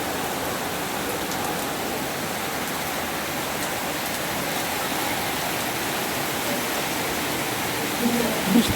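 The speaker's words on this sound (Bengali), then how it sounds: "অনেক ঝড় হচ্ছে।" A heavy rainstorm roars steadily, a loud, dense, unbroken wash of falling rain close by with no other sounds standing out.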